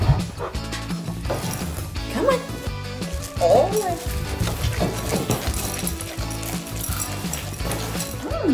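A puppy gives short, repeated yips and barks indoors near the microphone at breakfast time, mixed with whimpers, while a person talks over it.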